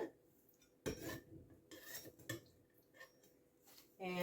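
A knife slices a piece out of a Sloppy Joe's pie in its baking dish, with scattered scraping and clinking of metal against the dish, quiet and close, in a few short separated strokes.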